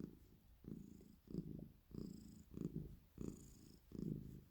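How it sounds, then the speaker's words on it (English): A ginger cat purring softly up close, a steady rhythmic rumble pulsing roughly every half second, each breath cycle rising and falling, with no talking. "You hear him purring?"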